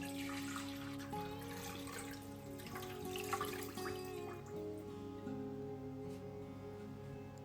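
About a litre of water runs into a pot holding a whole raw chicken, a faint, steady trickle and splash that continues throughout.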